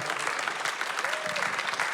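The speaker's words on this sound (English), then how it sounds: "A round of applause for everyone." A crowd claps steadily throughout at a piano studio community concert, a brief, even wash of applause heard from some distance with no pauses.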